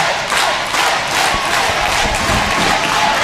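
A wrestling crowd at an SWE Fury TV show cheers and roars for Thunder Rosa during her match against Jazz, a loud continuous wash of shouting and cheering with a few louder swells.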